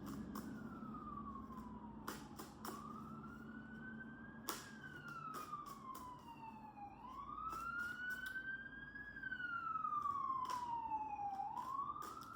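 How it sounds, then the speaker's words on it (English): An ambulance siren wails outside, its pitch sweeping up and down in long cycles as it passes and grows louder toward the end, with sharp clicks and a low rumble of background noise. "Excuse me for the ambulance,"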